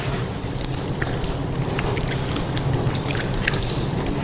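Water poured over feet during ablution washing, a continuous close splashing and trickling with scattered drips, steady in level for a few seconds.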